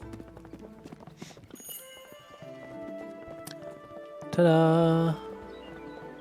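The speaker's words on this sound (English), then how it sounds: "Galloping sheep." Galloping sheep hoofbeats from the video game Spiritfarer, a steady clip-clop pattern with game music underneath, followed by a brief loud jingle near the end.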